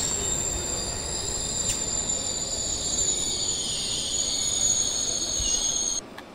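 Train braking in the video game Train Simulator 2022, a continuous high metallic wheel squeal over steady rumbling hiss that drops off abruptly near the end.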